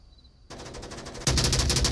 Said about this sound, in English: Oh, finally gunshots coming out from Just Do It.